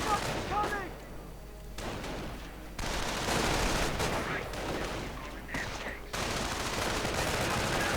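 Gunfire from the Company of Heroes strategy game crackles in dense, overlapping battle bursts, with rifle and machine-gun fire and heavier thumps building into continuous combat noise.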